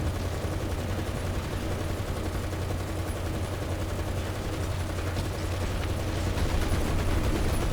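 Heavy .50 cal machine gun on an M2A2 light tank in War Thunder firing in dense sustained bursts, a continuous loud rattle of gunfire layered with battle noise throughout, no voices.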